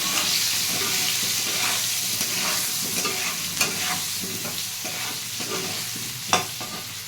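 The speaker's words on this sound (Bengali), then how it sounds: "এক ফোঁটা নুন দিয়ে দেবো, এক ফোঁটা হলুদ দিয়ে দেবো, নাড়িয়ে চাড়িয়ে নেব।" Potatoes frying in oil with salt and turmeric, stirred in a pan: a steady sizzle runs throughout, with a series of soft scraping stir strokes and one sharper clink near the end, no voices.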